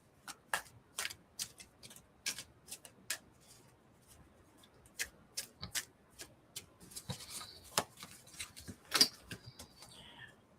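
Oracle cards are shuffled by hand in a run of sharp, quick riffling clicks and taps, some grouped and some spaced out, close and fairly quiet with no talk over them.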